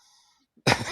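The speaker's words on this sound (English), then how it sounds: "sorry, coughing away here." A single short cough bursts out loud and close after near silence, a harsh throat-clearing burst lasting under half a second.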